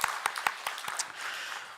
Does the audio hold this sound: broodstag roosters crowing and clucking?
no